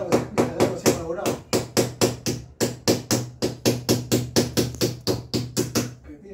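A small steel nail is hammered into a wall to fix a pipe in place: about two dozen sharp, evenly spaced strikes ring out close and loud in a steady rhythm for several seconds.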